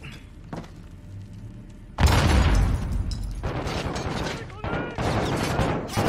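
A grenade blows up in Modern Warfare 2 with a sudden loud, close boom, followed by a dense stretch of rumbling blast and gunfire-like noise that stays loud to the end.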